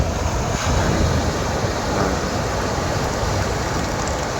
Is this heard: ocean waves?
yes